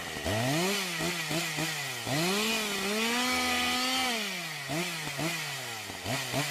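A voice imitates a running chainsaw in an ASMR roleplay, buzzing close and loud in rising and falling bursts, with a long sustained drone in the middle.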